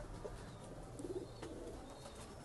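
Pigeons cooing softly in a loft of highflyer and breeder birds in Faisalabad, low rolling coos rising a few times over a steady background hum, with no talking.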